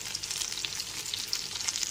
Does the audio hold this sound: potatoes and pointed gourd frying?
yes